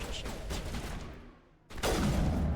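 Rapid bursts of gunfire from the video game Mass Effect crackle in quick succession, with a brief lull before another dense burst at similar loudness.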